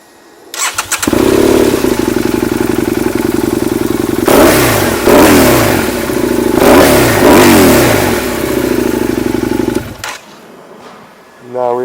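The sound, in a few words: stationary motorcycle engine revving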